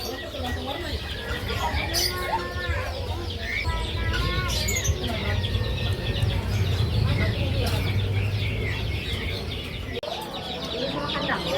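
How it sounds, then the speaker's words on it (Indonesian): Australian parakeets and lovebirds chatter and chirp continuously at a busy bird market in Makassar, with many overlapping bird calls and a low market hum underneath. "Ini parkit Australia teman-teman."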